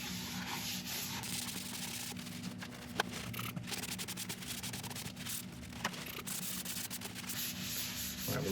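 A cloth soaked in isopropyl alcohol rubs steadily across a turned laburnum wood vase to wipe off excess finish, making a continuous soft, close scrubbing hiss with a few faint knocks.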